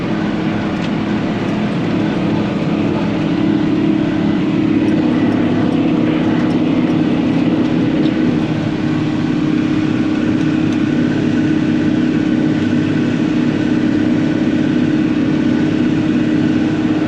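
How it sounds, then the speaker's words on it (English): A lawn mower engine runs continuously at a steady droning pitch, loud and close throughout with no pauses or speech. "Something the mower didn't like."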